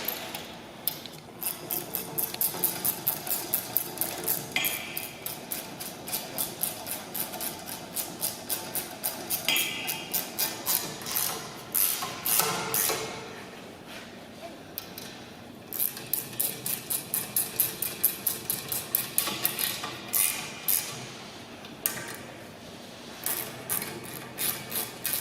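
Metal nuts being tightened with a hand tool during a wheel swap on a Chapman bass: a steady run of rapid scraping, ratcheting strokes close by, continuing in bursts with short pauses, no talking.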